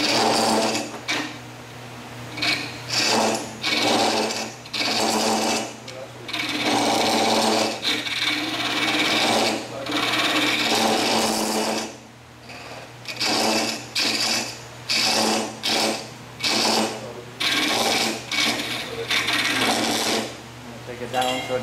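A drill bit runs during work on a coin funnel, whirring loudly in repeated bursts, some long, then short stop-start runs toward the end, with brief quiet gaps between.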